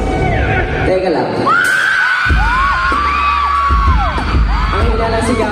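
At a live pop concert, a crowd shrieks and yells in rising and falling cheers over loud, steady music, with the screams rising and falling throughout.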